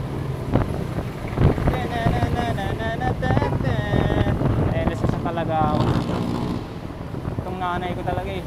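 Wind roars steadily across an open ride during a bicycle gran fondo in the city, with a voice talking over the constant gusty rush.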